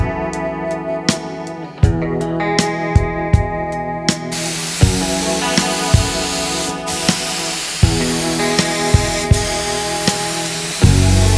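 Air spray paint gun atomizing paint onto a junkyard Cadillac, the regulator set to 40 psi at the hose end; a loud, steady hiss runs throughout, with intermittent clicks and knocks over it and no talking.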